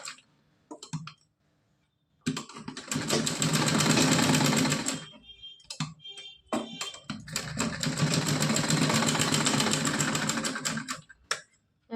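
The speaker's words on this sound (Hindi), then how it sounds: "यहाँ पे 2-3 बार सिलाई लगा देना है।" A sewing machine stitches a cotton night dress for a Laddu Gopal idol in two long, steady runs of rapid mechanical whirring. Brief clicks and quiet pauses come between the bursts, and no one speaks.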